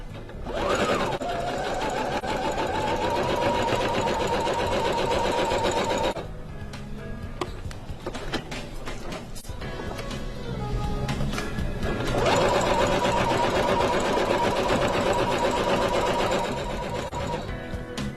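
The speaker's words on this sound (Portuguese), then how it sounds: "eu vou costurar exatamente em cima da linha que eu risquei" Sewing machine stitching four fabric squares along a marked line for a table runner, running steadily and loud for several seconds, pausing briefly, then stitching again.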